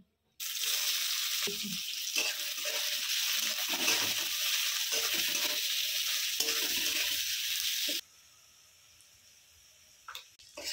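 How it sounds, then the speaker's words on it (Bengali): Onion goes into hot oil with whole spices like cardamom, cinnamon, cloves and pepper, setting off a loud, dense sizzle with stirring scrapes that runs for most of the clip before abruptly dropping to quiet clatter. "এবার আমি পেঁয়াজ দিয়ে দিচ্ছি।"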